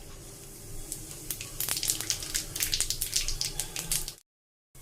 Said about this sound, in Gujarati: તેલ ગરમ થઈ ગયું છે, ત્યારબાદ આપણે એમાં જીરું ઉમેરશું